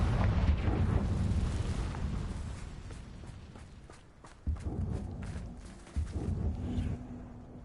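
A Confringo fire spell bursts in the Hogwarts Legacy game, a rumbling fiery explosion that fades out, followed by two sharp thumping impacts with crackling decay, loud and alone.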